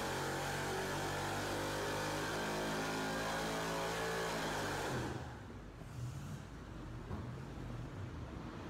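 A turbocharged 4.8 liter LR4 V8 with forged pistons and stock exhaust manifolds revs loudly and steadily up close for about five seconds, then cuts off abruptly, leaving quieter background noise.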